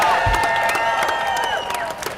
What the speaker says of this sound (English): if I don't get a cheer for this next part, I'll be very disappointed